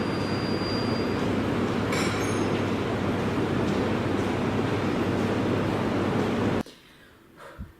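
A metro train rolls loudly into a station with a steady roar, rattling and brief wheel squeals, then suddenly cuts off into quiet ambient hum.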